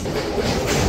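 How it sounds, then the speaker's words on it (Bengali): The Kolkata–Digha special train rolls into Dum Dum Junction, a close, loud rumble of wheels and carriages in a brief continuous burst. "দমদম জংশনে ঢুকছে ট্রেন।"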